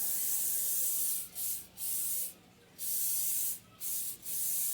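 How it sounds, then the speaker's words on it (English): Cooking spray hisses from a can into a cornbread baking pan in several bursts of varying length, close and bright, with short pauses between. "Give it a good spray. You don't want your bread to stick, so give it a good spray."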